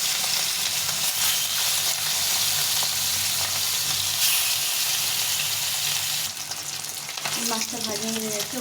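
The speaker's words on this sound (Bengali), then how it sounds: "ভালো করে ভেজে নেব" Fish frying in hot white oil, a loud, dense, continuous sizzle that carries steadily throughout, with a brief burst of bubbling and a faint squeak near the end.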